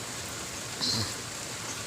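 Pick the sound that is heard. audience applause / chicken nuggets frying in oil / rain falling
rain falling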